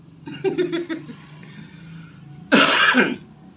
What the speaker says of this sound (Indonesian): Saya batuk begini sebentar